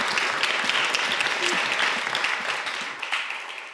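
Audience applause after a talk on wealth and happiness, a dense, steady wash of many hands clapping at moderate loudness, continuing alone without speech and tapering slightly toward the end.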